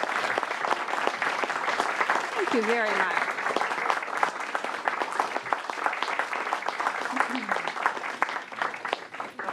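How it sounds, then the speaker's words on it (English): Committee hearing audience applauds a guest in a room, moderate clapping throughout while a voice speaks briefly over it. "give her a round of applause"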